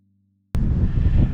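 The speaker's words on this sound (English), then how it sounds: "pardon the wind, but it is windy up on top of this knob." Strong wind buffets the microphone on an exposed hilltop knob, a loud continuous low rumble that starts abruptly after a brief silence and holds steady to the end.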